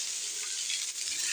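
Dried red chillies, four garlic cloves and onion sauté in a pan for a Tamil ponnanganni keerai poriyal, producing a steady, close sizzling hiss with faint stirring underneath.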